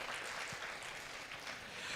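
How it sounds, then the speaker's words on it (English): Applause at a business services forum and awards ceremony comes across as faint, continuous clapping from an audience, heard from a distance with a soft, even texture. "A round of applause for Andrada Iliescu"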